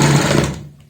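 A sewing machine runs a quick burst of stitching on a blouse lining, loud and close, rattling for about half a second before winding down into quiet.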